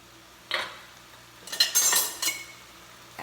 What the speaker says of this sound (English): add the rice to it. I use parboiled rice.